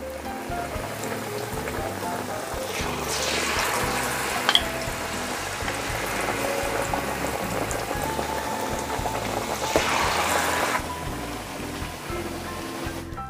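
Stuffed tofu deep-frying in used oil, a continuous crackling sizzle that swells louder twice, close and steady with no talking.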